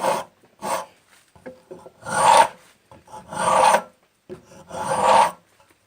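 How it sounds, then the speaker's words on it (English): A rasp files a wooden knife in distinct rough strokes, short ones first and then three longer, louder scrapes, close and alone. "here I'm going to switch to a little bit of finer rasp"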